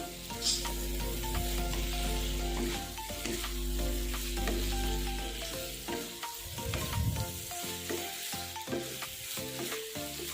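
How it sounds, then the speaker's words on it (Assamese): Pointed gourd (parwal) and potato pieces stir-fried in an oily pan for a masala parwal paneer dish, with steady sizzling under background music-like tones and a few clattering stirs midway. "পটল আৰু আলুখিনি দি দিম। এইখিনি ভালকৈ মিক্স কৰি ল'ম।"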